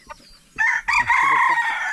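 A white rooster with white feet crows loudly and close by in one long sustained call after a couple of faint clucks, with a brief pause mid-crow.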